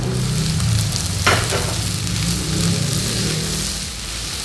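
Tomatoes hit a hot pan with beef and green chili, giving a loud, continuous sizzle and frying hiss with a brief sharper crackle early on and no talking.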